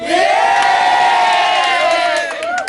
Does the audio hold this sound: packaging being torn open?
no